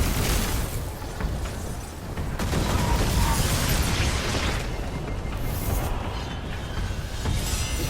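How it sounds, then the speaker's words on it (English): Grenade blasts and gunfire rumble through a Destiny 2 firefight, heavy booming bursts continuing throughout with dense, loud low-end impacts. "I'm gonna throw a grenade back."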